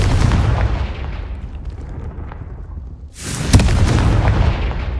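Confringo fire blast spell cast in a Harry Potter video game: a loud explosive boom erupts, fades into a rumbling decay, then a second sharp blast bursts back in full and sustains a dense roar.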